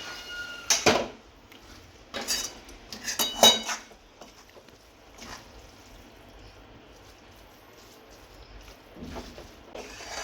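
Metal spoon scraping and clanking against a pan of noodles with ketchup in short bursts, close up, with quiet pauses between the stirring strokes.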